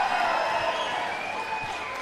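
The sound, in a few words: crowd cheering and applauding at pickleball match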